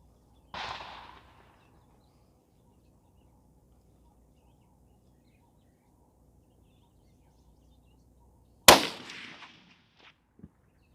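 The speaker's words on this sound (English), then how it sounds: "now we're going to shoot those 180 grains." Two loud, sharp gunshots from a Huglu Ovis G2 Synthetic bolt action rifle in .308 Win firing 180-grain loads, several seconds apart, each followed by a short ringing decay, with a small click after the second.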